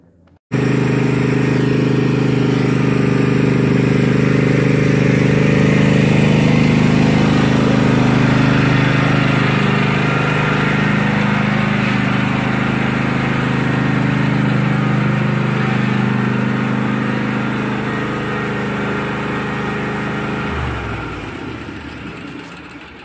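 A big riding lawn mower engine drives up onto a newly built reinforced yard ramp, a steady loud low rumble running for about twenty seconds before fading as the engine cuts off.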